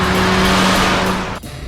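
A Nissan Cube with a 1.4-litre engine and automatic gearbox drives noisily, a loud continuous roar of engine and road noise with a low droning hum, easing off sharply near the end.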